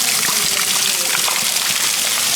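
Water gushes through a tunnel with a loud, steady, close rush that fills the whole space.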